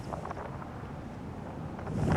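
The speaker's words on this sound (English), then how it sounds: "It is incredibly windy today." Strong wind buffets the microphone at the Slieve League Cliffs, a steady roaring rumble that swells louder toward the end, with no voices.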